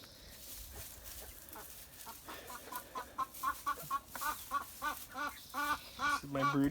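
Backyard hens in a recycled chicken coop cluck in a rising series of short, repeated calls, growing louder and closer toward the end over a faint background.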